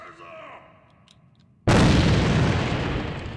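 A grenade goes off in the shooter game AVA: a quiet stretch, then a sudden loud boom that turns into a long, roaring rumble fading slowly over the next few seconds.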